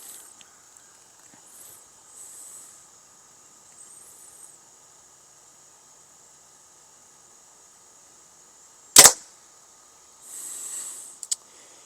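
A hunting bow with gas bowstrings looses an arrow into a target: one sharp, loud snap-thud standing out from a near-silent background, followed later by a brief hissy rustle.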